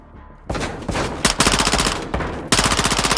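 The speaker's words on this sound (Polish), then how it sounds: "Niezły strzał, Hermanowi." Rapid bursts of automatic gunfire from Call of Duty: Modern Warfare 2, during the cartel-protection campaign mission, ring out loud and close. They come in several clustered volleys with short pauses between them.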